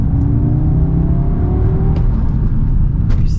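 An Audi S3 drives on cobblestones in dry and wet conditions, its engine giving a steady, loud rumble and whir throughout with faint road noise and no talk.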